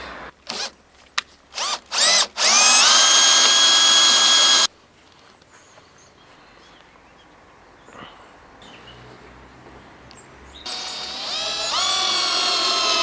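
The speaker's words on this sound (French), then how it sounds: "je vais les visser dans un premier temps et les coller" Power drill driving screws into wooden support blocks for a wooden bar table, several short whirring bursts followed by a long sustained run, then quieter workshop noise and another steady drilling stretch at the end, no talk.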